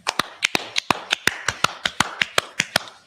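Hands clap at a gathering of the Israelite School of Universal Practical Knowledge, sharp close claps in a steady, quick rhythm, about five per second, with no talking over them.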